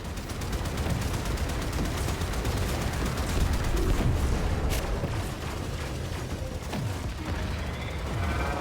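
Torpedoes fire from a ship in the video game Warframe amid constant heavy booms and rumbling explosions, a loud dense barrage with sharper blasts and whooshes standing out near the middle and end.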